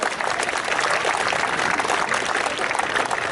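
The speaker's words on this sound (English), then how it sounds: "Give her a nice round of applause" Audience applause at an outdoor falconry display at a steam fair, a steady dense wash of many hands clapping, sustained and fairly loud throughout.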